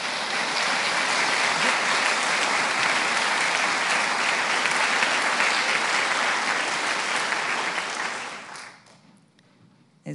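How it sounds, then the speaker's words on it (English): An audience at a middle school prize giving applauds a dance company and choir with sustained, even clapping that holds strong for about eight seconds before tapering off. "I think both groups deserve another round of applause"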